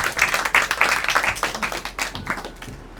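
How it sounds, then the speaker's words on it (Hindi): Light, scattered clapping from a small group in a theatre improvisation class, a quick burst of claps that thins out and fades within a few seconds. "तालियां हो जाए इनके लिए थोड़ी सी।"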